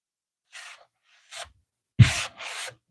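Four short bursts of scratchy rubbing, the last two louder and longer, like sandpaper worked back and forth by hand on a wooden sign, with brief pauses between.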